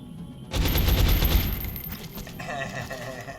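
Burst of gunfire in an Xbox shooter game, a rapid dense volley of shots rising sharply after a brief pause, loud for about a second and a half, then thinning into fainter game noise.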